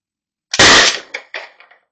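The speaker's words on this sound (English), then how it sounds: "I'm going to pull the trigger as hard as I can" An Umarex HDP-50 launcher fires once when the trigger is pulled: a single loud, sharp report with a brief rattling tail of quick metallic echoes, heard alone.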